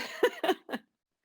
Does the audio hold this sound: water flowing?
no